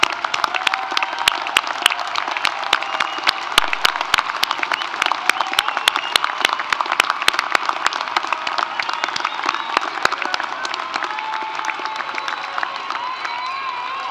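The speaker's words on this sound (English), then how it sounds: "we ask that you now stand up for a well-deserved round of applause" A large crowd applauds at a 2018 CSUN commencement ceremony honoring engineering, computer science, science and mathematics graduates, a dense, steady roar of many hands clapping close and loud throughout.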